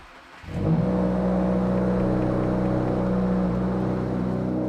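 A 2022 Subaru WRX engine cranks and fires up at about 0.6 s, then settles into a steady, loud idle with a strong low rumble. No voices are heard.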